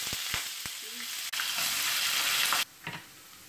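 Peanuts and potato frying in oil in a pan while cooking poha, a loud steady sizzle with a few sharp clinks of a utensil near the start and a sudden drop to quieter frying near the end.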